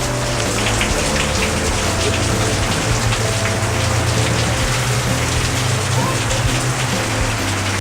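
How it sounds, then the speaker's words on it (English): Steady, heavy Arizona monsoon rain pattering on surfaces, a dense continuous hiss close by with a low background rumble. "Still raining."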